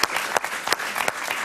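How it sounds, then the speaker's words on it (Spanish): A television studio audience bursts into loud, sustained applause, dense clapping with a few sharper claps standing out, close and without talk. "Un gran aplauso para ella."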